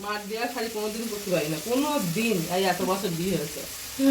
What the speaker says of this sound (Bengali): এখন ছোলা আলুটা ভাজা হচ্ছে